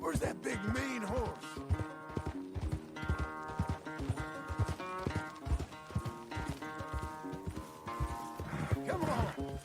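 A horse being broken in the Red Dead Redemption 2 western game stamps and clops in quick irregular bursts, with brief whinnies and snorting breaths, close but soft over a low music bed.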